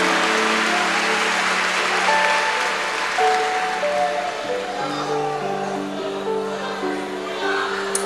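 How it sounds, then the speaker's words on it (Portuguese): A congregation applauds during a Pentecostal church service, a broad wash of clapping under sustained keyboard or organ tones, with a voice rising over it. "Aplausos a Jesus."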